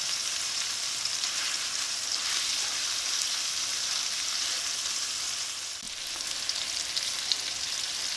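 A steak fries in butter, rosemary, garlic and thyme in a cast iron skillet, a steady, close, bright sizzle that continues without a break, with one soft knock partway through.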